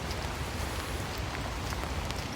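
Steady rain patters down on a spring park hike at Lacamas Park, a soft continuous hiss of drops with faint scattered taps, close around and alone.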